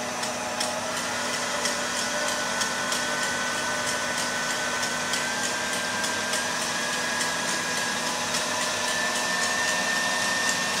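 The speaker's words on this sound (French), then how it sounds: "Terminer de foisonner les blancs." An electric mixer whips egg whites with sugar for fruit-juice soufflés, a steady, continuous high motor whine with a whisking hiss, close and even throughout, with no talking.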